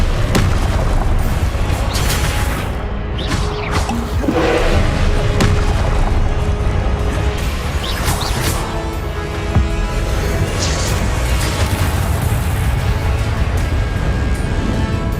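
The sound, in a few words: Confringo spell explosions in video game Hogwarts Legacy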